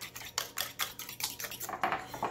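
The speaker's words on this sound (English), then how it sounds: "And now we're just gonna poke the yolks, whip her up." Eggs with poked yolks are whipped in a bowl for a keto pancake, a rapid, steady clatter of a utensil striking the bowl, close and alone.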